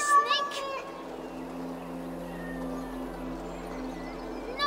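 A cat meows in the Assassin's Creed Valhalla video game, a short cry at the start over a sustained tonal game soundtrack, with a character's voice speaking.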